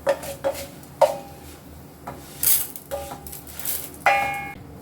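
Roasted onion chutney ingredients are scraped from a pan into a cup, giving a series of sharp metallic clinks and taps with short pauses between them, close and clear, with no talking.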